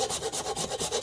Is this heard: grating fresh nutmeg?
yes